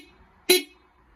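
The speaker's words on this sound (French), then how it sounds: "Et là, j'appuie sur le klaxon." A single short toot from a horn wired to a battery, sounding once close up in a quiet space, brief and sharp.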